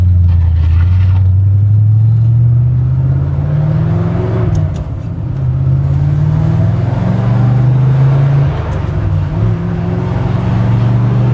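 A C3 Corvette drives along a road, its V8 engine droning loud and close with rising and falling pitch as it accelerates through the gears, no talking.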